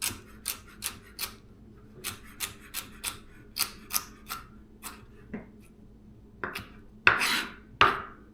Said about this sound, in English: And then we'll just finely chop them.